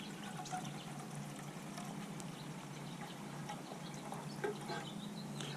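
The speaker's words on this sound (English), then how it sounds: "we're not gonna put that much water in here." Water pours steadily into a metal canteen cup set on a camp stove with a simmer ring outdoors, a soft continuous trickle and gurgle that runs quietly throughout, with no voices.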